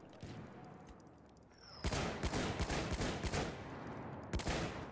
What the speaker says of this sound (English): I'm just shooting at legit nothing.